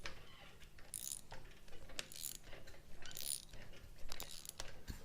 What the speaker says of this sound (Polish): Silnik obraca się, coś tam słychać, jakąś kompresję.